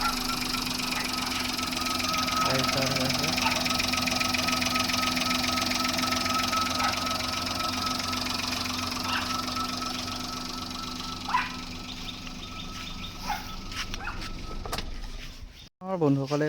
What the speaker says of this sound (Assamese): মই এবাৰ আপোনালোকৰ ষ্টাৰ্ট দি ইঞ্জিনটো দেখাই দিছোঁ।